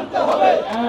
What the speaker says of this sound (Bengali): আমাদের এই আনসার ভাইরা এক দফা দাবিতে তারা স্লোগান দিচ্ছে